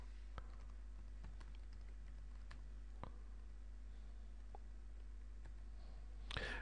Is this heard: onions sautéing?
no